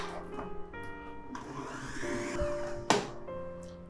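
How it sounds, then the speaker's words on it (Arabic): An electric mixer whips eggs for a red velvet cake batter. It gives a rising motor whir with a noisy, whooshing beating sound and one sharp clatter, fairly quiet and without speech. "اول حاجه هننزل بالبيض كده وهنخفقه كده حوالي بس يعني 5 دقايق او اقل"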